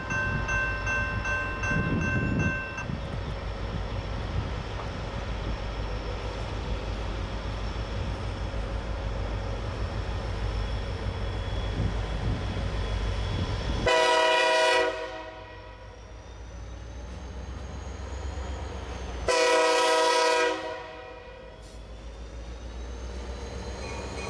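Norfolk Southern NV15 freight led by EMD GP40-2 locomotive 3034 rolls eastbound past Carolina Junction toward Norfolk, a steady loud rumble of wheels and cars broken by two long blasts of the horn, no voices.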